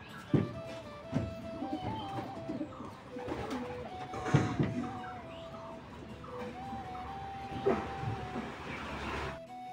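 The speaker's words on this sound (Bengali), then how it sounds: "আমার সবকটা পায়রা বাইরে বেরোনোর জন্য পুরো পাগল হয়ে আছে" Domestic pigeons coo in low repeated throaty phrases, several birds overlapping at a moderate distance, with faint background noise between the calls.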